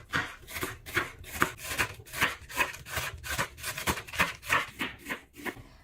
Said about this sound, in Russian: Капусту тонко шинкую.